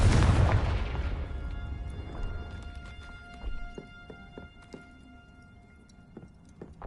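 A Confringo explosion spell goes off in a Harry Potter video game: a loud, deep boom opens and rolls away into a fading rumble, followed by scattered light pops and clicks.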